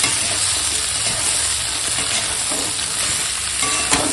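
Vegetables fry in a pan with ginger-garlic paste while being stirred, giving a steady close sizzle with the scrape of stirring throughout.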